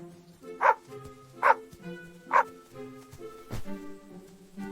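A puppy gives three sharp, high yipping barks at an even pace, then a softer low thump, all close and fairly loud with no talk over them.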